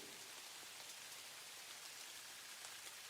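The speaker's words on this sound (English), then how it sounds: "we got some rain for the atmosphere here" Steady rain falls in the video game Satisfactory, a soft, even hiss with a faint patter throughout, quiet and continuous with no voices.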